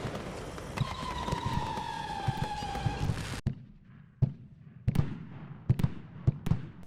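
Airstrike firework cake going off in a backyard July 4th show, with sharp cracking bursts and rising whistles early, then a run of separate loud pops and crackles spaced irregularly through the rest.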